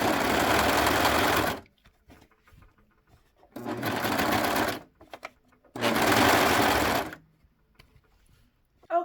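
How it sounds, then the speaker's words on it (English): A serger overlocks the fabric edges of a quilted vest in three loud, close bursts of fast, steady machine whirring, each a second or more long, separated by quiet pauses with faint handling noises. "So I'm just going to serge my edges completely off to secure those."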